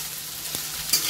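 Okra pieces frying in a pan over low heat, a steady soft sizzle with a faint stirring scrape partway through and a brighter crackle near the end.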